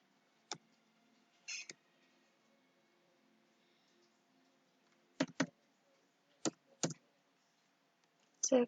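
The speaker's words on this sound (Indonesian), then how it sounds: "kemudian saya tulis atau saya ketik" Computer keyboard typing into a spreadsheet cell, a few sparse, quiet clicks and short bursts of keystrokes separated by pauses, close and isolated.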